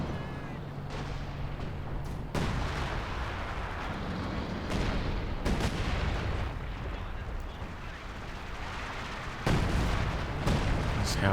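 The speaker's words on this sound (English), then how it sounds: "These howitzers continue to pound away." Howitzer artillery in the Company of Heroes 2 game, a 4v4 battle of tanks against artillery, with dense continuous rumbling and a few sharper booms over the battle noise.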